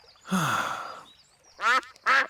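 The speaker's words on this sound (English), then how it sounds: "It is Mrs. Duck and her friends." Cartoon ducks from Peppa Pig quack three times, loud and close. One long quack is followed by two short, sharp ones, with brief silences between them.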